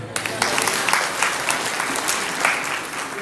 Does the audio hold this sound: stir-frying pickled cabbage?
no